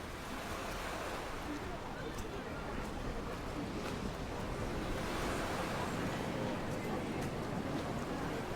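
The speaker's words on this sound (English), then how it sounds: "sound of waves." Ocean waves wash in a steady, dense roar of surf, moderately loud and continuous with faint breaks of spray on top and no clear pauses.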